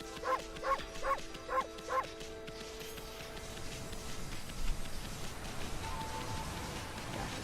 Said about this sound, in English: I just want to press the bark button all the time